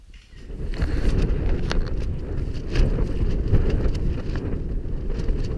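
Gusty wind buffets a tent roof at a wild camp beside Llyn y Fan Fach, a continuous loud rumbling flap with occasional sharper rustles, no voices.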